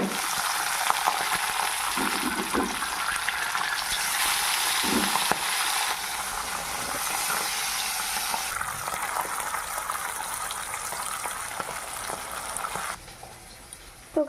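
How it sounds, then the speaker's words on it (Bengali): Pabda fish frying in oil in a kadai, a steady close sizzling hiss that holds for several seconds, eases slightly midway and drops near the end, with no speech. "তো গাইস প্রথমে মাছগুলিকে ভেজে নেব। তো প্রথমে কড়াতে তেল দিয়ে দিই।"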